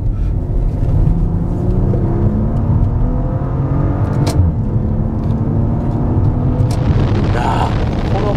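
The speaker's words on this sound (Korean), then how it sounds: "일단 스포츠 모드로 놓으면 배기음 자체가 상당히 높아지는 특징도 있는 것 같아요." A Maserati Levante Modena in sport mode accelerates with a loud, steady exhaust drone and rising engine note heard from inside the cabin, with a brief sharp click midway.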